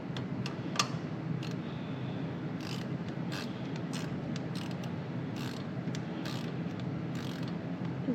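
A fastener being tightened by hand, quick ratchet-like clicks and small metallic ticks in irregular bursts over a low steady background hum, fairly faint and with no talking.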